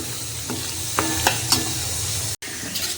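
Flour roasting in a pan for Gujarati sukhdi, stirred steadily with a soft continuous sizzle and a few scraping accents of the spoon, close and alone, with a brief cut near the end.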